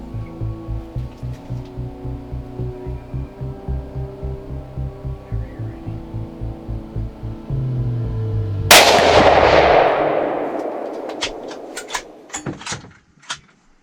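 A single loud rifle shot rings out during a deer hunt in an Arkansas plot, a sharp blast with a long rolling echo that fades over several seconds, preceded by a steady rhythmic background hum.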